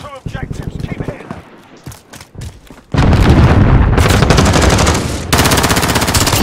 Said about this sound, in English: Now watch how quick this gun is.